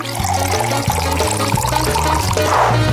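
Fanta pours steadily and loudly into a glass, with a continuous gurgling splash throughout.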